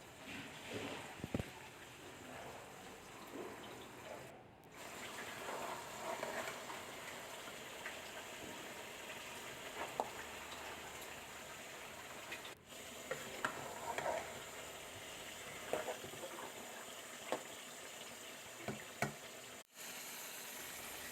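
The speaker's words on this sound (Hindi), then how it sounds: "आलू गोभी को अब हमने मिक्स करना है अच्छी तरह मिक्स करके" A spoon stirs and mixes potato and cauliflower curry in a pan, soft scraping and sizzling that goes on throughout with scattered clicks and taps of the utensil against the pan.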